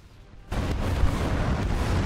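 A bomb strikes a tank in the War Thunder combat game, landing as one sudden heavy blast followed by a sustained rumbling roar that fills the rest of the moment, loud and close.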